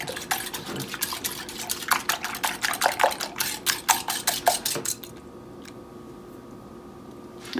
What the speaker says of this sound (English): I'm just going to whisk the mixture.